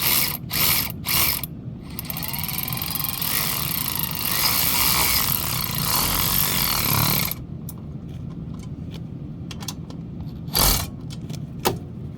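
A ratcheting hand tool tightens a hose clamp on a water heater expansion tank, clicking steadily and close for several seconds before stopping, followed by scattered small handling clicks and one sharper knock.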